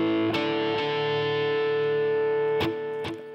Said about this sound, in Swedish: Introt börjar med att han spelar flageoletter.